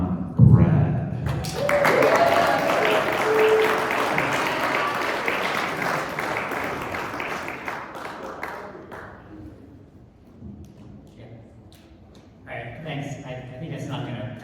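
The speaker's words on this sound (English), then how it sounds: "Ladies and gentlemen, let's welcome on Brad." An indoor audience applauds to welcome a speaker at a business talk, a sustained loud burst of clapping that fades out, with a voice speaking briefly near the end.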